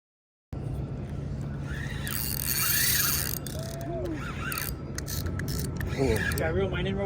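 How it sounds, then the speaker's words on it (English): A fishing reel is cranked in out at sea, its ratcheting, whirring mechanism running continuously up close, with occasional faint voices and squeaky bird-like calls in the background. "Can I reel mine in real well?"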